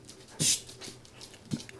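An XL Bully dog gives short whimpers and panting huffs, close by, in a few brief bursts with quiet gaps between them.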